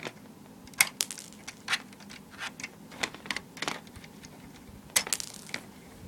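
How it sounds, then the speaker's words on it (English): Several sharp plastic clicks and snaps come at irregular intervals as Lego flick missiles fire from a custom Slave 1 set. The clicks are quiet and close, with light rattles in between and no talking. "I guess I can show you the firing flicks. You just fire them like that."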